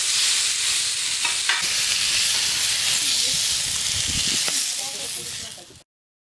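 Fried Bhola fish being lifted out of hot oil in a home kitchen, a loud continuous sizzle and hiss with a few scraping clicks of the utensil, fading out at the end.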